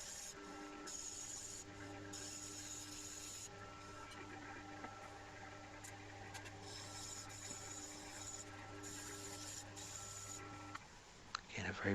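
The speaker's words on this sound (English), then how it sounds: "a very rigorous sanding routine here. I think 240 grit and then maybe 600 grit" Fine-grit sandpaper, around 240 then 600 grit, rubbing a small turned wooden piece spinning on a lathe, a steady close rasping hiss with a constant motor hum beneath, running continuously without speech.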